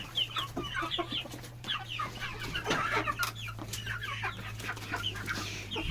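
Feather-legged Brahma chickens feeding at a village house, clucking in busy overlapping bursts up close over a low steady hum, with no talking.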